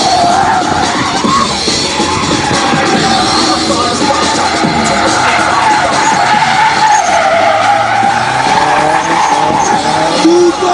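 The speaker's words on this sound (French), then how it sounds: "Tout en travers. Il se contrôle à l'accélérateur et à l'embrayage." A car drifts sideways at a Paris tuning and drifting show on a cold, partly damp track, its tires squealing continuously over a loud engine, with crowd noise and an announcer talking throughout.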